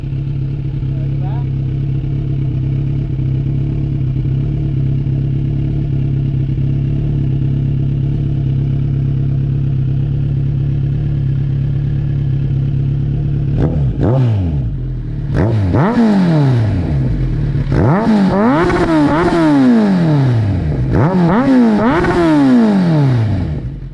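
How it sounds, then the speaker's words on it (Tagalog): A 2023 Kawasaki Z1000R with a new Drift full exhaust, header to canister, idles with a steady low rumble, then is blipped repeatedly in sharp revs that rise and fall, loud and close. "Excited na si Elevator Moto marinig yung kanyang bagong muffler."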